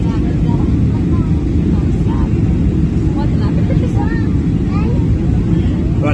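A passenger airplane descending to land on a flight from Fort Lauderdale to Montego Bay, a loud steady low engine roar heard from inside the cabin, with people talking over it.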